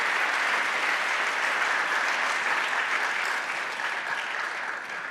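An audience at a renewable energy session gives a round of applause, a full, even wash of clapping that holds steady for about five seconds before starting to fade slightly.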